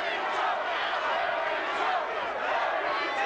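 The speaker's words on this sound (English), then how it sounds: "Now the crowd trying to get behind Mary Jo." A boxing crowd cheers for Mary Jo Sanders in her fight against Holly Holm, a sustained roar of many voices that swells slightly at times and holds steady throughout.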